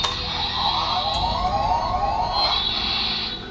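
A tinny electronic siren wails with sweeping, rising and falling tones over steady hiss, like a small toy speaker playing close by: a Power Rangers S.P.D. toy morpher.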